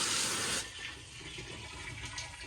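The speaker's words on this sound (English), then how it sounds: "first thing I'm going to do is just rinse the surface off, get rid of any loose debris" Running water rinses loose debris off a faded composite sink, a loud hissing splash that drops suddenly to a softer trickle and drip.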